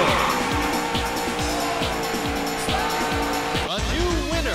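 Race cars in the Daytona USA arcade racing game on PlayStation 3, engines droning loudly and steadily with rhythmic gear-shift sweeps, tire squeals cutting in near the end over game music.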